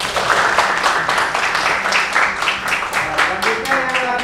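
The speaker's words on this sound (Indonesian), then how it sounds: "Beri tepuk tangan buat Aisyah." A group applauds with a burst of steady clapping that runs unbroken for a few seconds, fairly close and lively.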